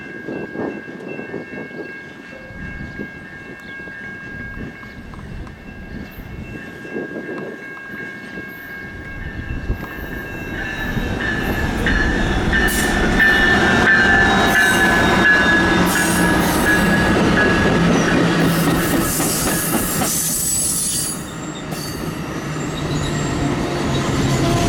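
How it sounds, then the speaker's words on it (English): Amtrak 381, the westbound Carl Sandburg passenger train, passes through Galesburg, Illinois: a faint distant rumble swells midway into a loud, sustained roar of rolling cars with squealing wheels and a steady high tone, easing slightly near the end. "Shortly following that was Amtrak 381, the westbound Carl Sandburg heading to Quincy, Iowa"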